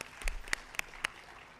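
Sparse, scattered handclaps from an audience at an Indian education ministry event marking six years of NEP-2020; a few distinct, fairly faint claps stand apart, with no voices.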